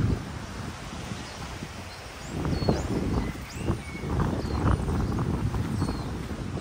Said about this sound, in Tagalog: Mahangin din pero hindi kagaya doon sa kabila na sobrang lamig ang hangin.